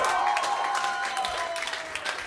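Short stretch of steady concert hall applause, many hands clapping in a thick continuous patter, with a faint sustained tone lingering underneath.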